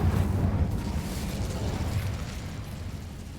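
Incendio fire spell cast in Hogwarts Legacy, a loud whooshing burst of flame that erupts at once and then slowly fades over a few seconds.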